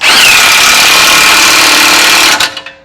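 An air or electric impact wrench hammers tight the bolts of a forged adjustable front track bar on a Jeep JK, one loud, close, sustained rattling burst of under three seconds that cuts off abruptly.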